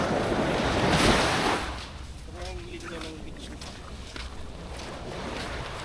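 Sea waves wash onto a beach in the morning, a loud surging rush that peaks early, then settles into a softer, steady hiss of surf with wind on the microphone and a voice speaking briefly over it.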